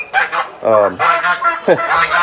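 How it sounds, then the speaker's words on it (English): A goose-like farm bird honks loudly and close in a rapid series of short, harsh calls, several bursts in quick succession. "He's an interesting bird, to say the least."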